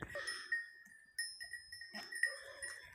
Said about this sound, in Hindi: कुछ घंटियां बज रही हैं